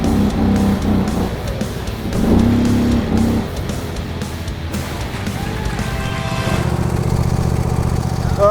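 A four-wheel drive quad bike's engine roars continuously during a tug of war against heavy machinery, loud and close, with the pitch rising and falling as it strains, under a dense mechanical drone.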